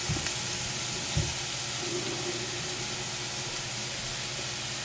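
A salmon fillet seasoned with salt and pepper sizzles steadily in a hot pan, a constant close crackling hiss with a couple of soft clinks and scrapes near the start, no talking.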